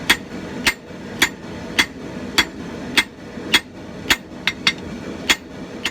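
Hammer blows on hot steel flattening the boss of blacksmith tongs on an anvil: about a dozen sharp, ringing strikes at a steady pace, briefly quickening near the end, loud and close.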